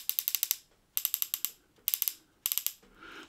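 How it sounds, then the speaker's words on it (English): Crisp ratcheting clicks from the turret of a Discovery Opt ED 3-15x50 rifle scope with a one-piece aluminium tube, heard close and alone in four quick bursts of about five or six sharp, evenly spaced clicks. "Nice, definite, audible clicks."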